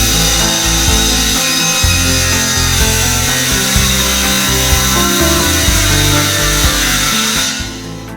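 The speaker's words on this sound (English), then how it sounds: "Ashley has a flat surface to run her circular saw down" Circular saw ripping PureBond hardwood plywood laid over studs, blade set about 1/8 inch below the sheet; a loud, steady whining cut runs nearly the whole time, then winds down at the end.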